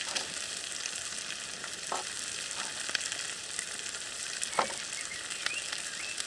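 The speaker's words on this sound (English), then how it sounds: "They're going to go in with our oil to fry a little bit." Lamb steaks sizzle steadily in hot oil in a pan on a RidgeMonkey Connect Combi set, a constant dense frying hiss with a few faint clicks and light stirring taps, close and alone without any talk.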